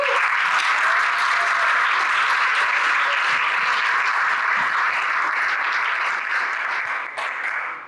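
Sustained audience applause for panelists at a political summit, a dense, steady wash of many hands clapping that fills the room for several seconds before easing slightly at the end.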